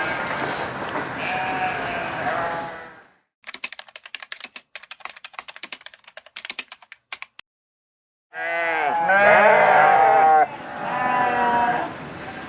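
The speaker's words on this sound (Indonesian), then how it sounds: "ini adalah koleksi domba dari Ayah Kurban Indonesia" Sheep in a flock at an Indonesian livestock farm bleat loudly and close by in the late afternoon. Several overlapping bleats come at the start and end, with a stretch of sharp, irregular clicking between them.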